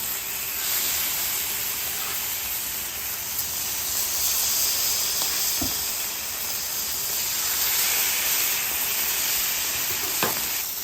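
Smoked beef tallow and burgers sear on a ripping-hot griddle with a loud, dense, steady sizzle and hiss close by, plus a couple of faint scrapes.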